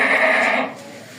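Goats and young goat kids on a goat farm bleat loudly and close by in one sustained, wavering call that fades toward the end.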